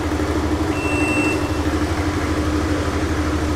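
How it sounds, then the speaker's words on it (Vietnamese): A scooter engine idles steadily just after being started, a continuous low mechanical hum with a faint high whine, heard alone without talk. "như vậy là hiện tại xe đã nổ máy"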